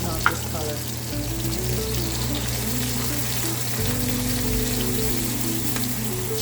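Masala mixture with green onion sizzles steadily in a pan for Guyanese hassa curry, a continuous close frying hiss with a faint low hum underneath and one small clink near the start.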